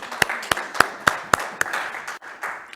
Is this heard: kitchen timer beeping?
no